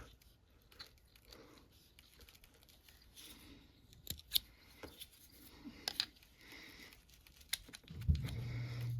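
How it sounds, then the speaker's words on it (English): Scissors slice a slit along the bottom of fishing tubing, giving a series of soft snips and crisp clicks that grow sharper toward the end. They are close and quiet, with no talking over them. "I actually take my scissors and I run it right along the bottom, got a nice slit in it."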